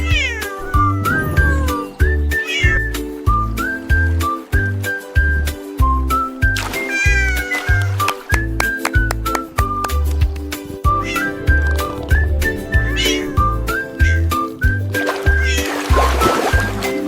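A cat meows again and again in short, tuneful cries over a bouncy children's song with a steady thumping beat, running continuously throughout.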